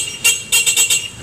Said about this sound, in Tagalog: Kung mapapansin niyo po yung busina po niya is malakas po siya.